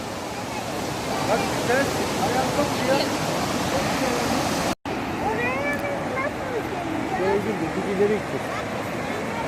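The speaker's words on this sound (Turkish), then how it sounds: "Gördün mü şelaleyi annem?" The Yerköprü Waterfall in Hadim, Turkey roars steadily with constant rushing water, with voices chattering faintly underneath.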